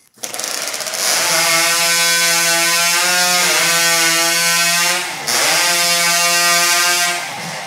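A Hot Saw racing chainsaw, the modified engine screaming at a high harmonic pitch through a timber cut at a STIHL Timbersports Four Nations Cup event, loud and sustained with two brief dips as the cut progresses.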